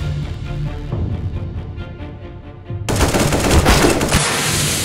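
Rapid automatic gunfire from CS:GO in a close-range clutch fight, a steady rattling burst that swells into a louder, denser volley of shots partway through, with no talk over it.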